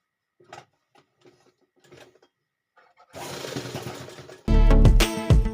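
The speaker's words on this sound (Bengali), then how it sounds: "এই সেলাইটা লব সেলাই করে নিচ্ছি আপনারা দেখুন" Sewing machine running a lock stitch on a pillow cover: a few faint handling taps come first, then the machine starts with a steady mechanical whir and rises to a loud, rapid, close chatter.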